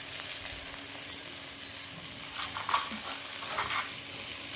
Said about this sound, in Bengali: এইসব উপকরণ দিয়ে আমি আরও ভালো করে মশলাটা ভাজিয়ে দিচ্ছি।